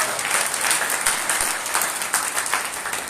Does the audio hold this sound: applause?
yes